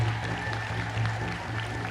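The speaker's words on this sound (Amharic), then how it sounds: "በደንብ አጨብጭቡላቸው።" A congregation claps together inside an Ethiopian Orthodox church in Minneapolis, a steady, dense wash of applause over a low sustained hum that continues without pause.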